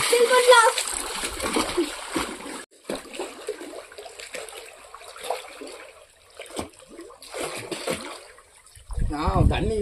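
Swimming in water produces intermittent splashes and sloshing, loud at the start and again at the end, with voices talking between the splashes.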